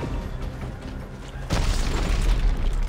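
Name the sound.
rocket launcher explosion in video game Dead Space 3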